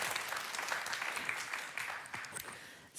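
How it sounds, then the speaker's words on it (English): Audience applause at a tech innovation talks event, a continuous round of clapping from a crowd, moderately distant and steady before trailing off at the end. "let's give these three a big round of applause."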